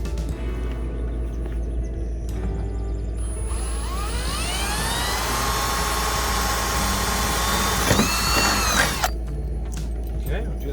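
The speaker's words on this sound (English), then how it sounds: "now we're going to drill the holes for those bolts" A power drill whines loudly as it bores bolt holes into a big truck while fitting a bug deflector, the motor pitch rising and falling over several seconds amid shop noise, with a brief burst of rattling near the end.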